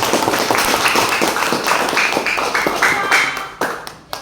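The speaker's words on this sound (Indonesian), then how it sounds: "Tepuk tangan dulu" Classroom applause follows a teacher's cue during a lesson on caring for nature, a steady patter of many hands clapping throughout, moderately loud and fairly close, thinning out toward the end.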